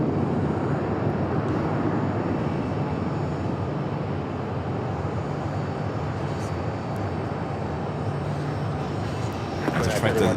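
An American Airlines Boeing 737-800 bound for JFK produces a steady, distant jet rumble at Phoenix Sky Harbor, continuing under people talking nearby.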